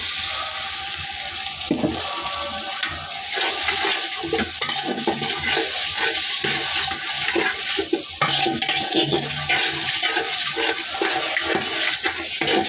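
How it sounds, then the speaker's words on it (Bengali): Water poured into ginger-garlic paste frying in a pan sets off a rushing, bubbling hiss, with scraping and stirring in the pan and uneven bursts throughout. No one speaks. "এখন দিয়ে দিব একটু পানি।"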